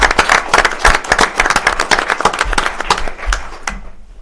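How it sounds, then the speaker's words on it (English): Applause from the audience at a town board meeting, a dense patter of clapping hands that holds steady for about four seconds and then fades out abruptly near the end. "So you deserve a round of applause."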